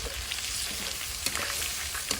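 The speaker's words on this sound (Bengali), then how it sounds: "এখন ডালটা ভালো করে কষিয়ে নিব মশলার সাথে।" Mung dal is stir-fried with spices in a pan while cooking murighonto with katla fish head. It gives a continuous, close, crackling sizzle with occasional stirring scrapes, and no talk is heard.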